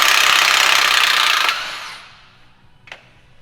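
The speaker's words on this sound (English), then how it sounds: "removing the flywheel" Flywheel removal on a CP340 ST225 engine with a power tool: a loud, steady whirring burst for about a second and a half that trails off, then one short sharp metallic click near the end.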